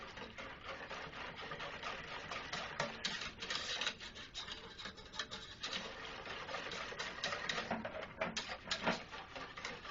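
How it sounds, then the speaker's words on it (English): Hot chocolate ingredients are whisked together in a bowl, mixing dry into wet, with a continuous close scratchy rubbing and clinking rhythm that runs throughout. "We're just going to do a real basic mix just to mix the dry ingredients in with the wet here."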